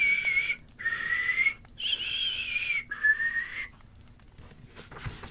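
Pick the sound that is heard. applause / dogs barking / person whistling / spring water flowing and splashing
person whistling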